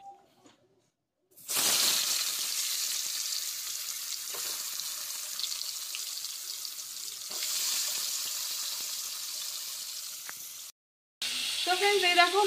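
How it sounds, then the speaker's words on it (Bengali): A fish fries in a pan with a steady, bright sizzling hiss that starts abruptly, holds for several seconds, cuts out briefly and returns, heard close and with no speech over it. "এই দেখো মাছটা ভাজতে বসিয়ে দিয়েছি।"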